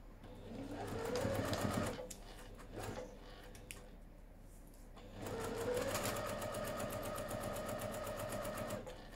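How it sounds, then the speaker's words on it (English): A sewing machine stitches quilt pieces in two close runs, a short burst and then a longer steady whirring drive with a rising motor tone, separated by a quiet pause with a few light clicks. "So I've done my double check, and now I'm right to sew."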